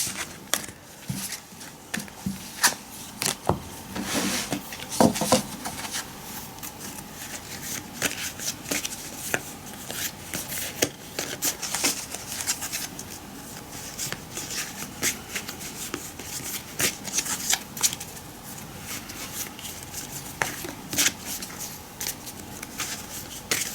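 Tarot cards being shuffled by hand, giving a steady run of soft riffling and flicking close by for the whole stretch, with scattered sharper taps and no talking.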